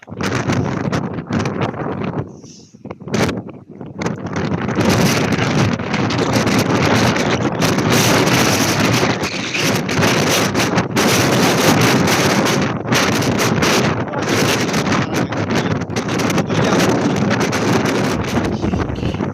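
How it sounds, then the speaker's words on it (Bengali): Strong wind roars and buffets the microphone almost without pause on a South African seashore, dipping briefly near the start, with the heavy wash of big ocean waves beneath it. "প্রচুর বাতাস আর বিরাট বড় বড় ঢেউ"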